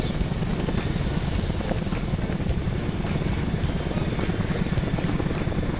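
Cartoon helicopter coming in to land on a field, a steady loud rotor drone with continuous broadband noise and no voices.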